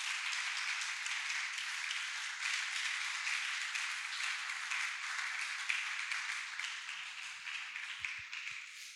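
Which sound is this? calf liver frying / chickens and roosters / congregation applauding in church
congregation applauding in church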